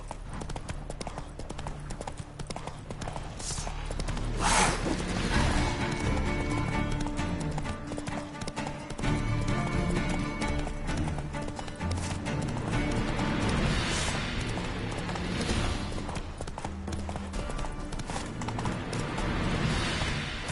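Roach the horse galloping in The Witcher 3, a loud, continuous rapid clatter of hoofbeats with an occasional whinny, sustained over a dense background bed.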